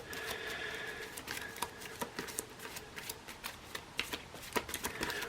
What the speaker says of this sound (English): I'm going to give these a good shuffle.